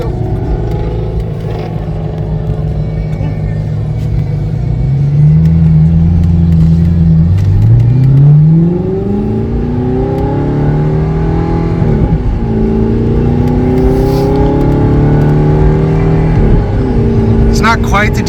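An Audi R8 engine revs and accelerates up through the gears, its pitch climbing and dropping at each shift with a burble between changes, loud and close from inside the car, with voices talking over it.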